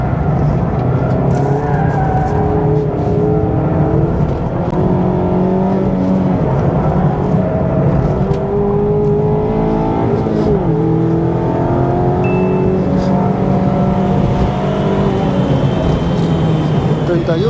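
Mazda MX-5 RF 2.0 Homura engine revving continuously with rising and falling pitch as the rear slides through corners, loud and close throughout, with occasional tyre noise.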